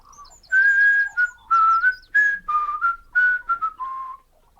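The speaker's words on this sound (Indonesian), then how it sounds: "Don sedang bekerja di kebun sambil bersiul." A man whistles a short melodic tune while working in a garden, clear close notes in quick phrases with brief pauses between them, alone without other sounds.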